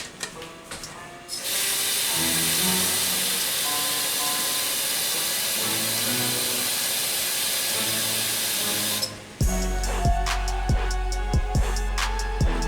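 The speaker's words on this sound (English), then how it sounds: "So let me add some water to this blender." About three cups of water pour into a blender in a steady rushing stream for several seconds, then stop, followed by light clinks and taps nearby.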